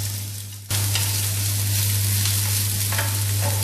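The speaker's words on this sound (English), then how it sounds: "Drop in cloves of garlic and wait for it to sizzle a little bit," Garlic and onion sizzle in hot oil in a pan over a high flame. The sizzle bursts in abruptly and loudly, then holds as a steady, crackling hiss over a low hum.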